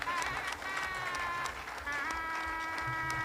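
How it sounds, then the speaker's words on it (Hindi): An audience at a LIAA Nagpur Division Harshotsav 2017 event applauds in a steady wash of clapping, heard alongside a sustained tonal hum from the hall's sound system. "जोरदार तालियां"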